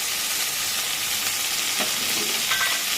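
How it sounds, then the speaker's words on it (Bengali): Eggplant, ridge gourd, pointed gourd and potato fry in hot oil tempered with nigella seeds for a fish curry, giving a steady close sizzle with a few soft stirring scrapes and no talk. "কালো জিরে ফোড়ন দিয়ে তেলের মধ্যে মা এই আনাজগুলো দিয়ে দিয়েছে, বেগুন, ঝিঙে, পটল, আলু।"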